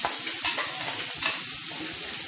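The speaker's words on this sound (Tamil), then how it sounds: "1 பெரிய வெங்காயம், 1 tablespoon அளவுக்கு இஞ்சி பூண்டு விழுது, இது மூணையும் சேர்த்துடுறோம். சேர்த்துட்டு கொஞ்சம் ஃப்ரை பண்ணிக்கோங்க." Sliced onion with ginger garlic paste fries and is stirred in a pan, a steady close sizzle with scraping stirs throughout and no talk.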